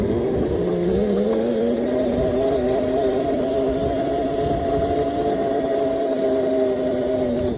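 Apollo electric dirt bike accelerating across a field, giving a loud, steady electric motor whine that climbs in pitch early on and then holds, continuous and close, with no talking.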